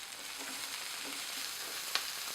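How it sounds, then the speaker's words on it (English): Brussels sprouts sear in hot olive oil over high heat, giving a steady close sizzle with soft crackles and one brief sharp pop near the end, with no voices. "Wait until they get some nice searing on them."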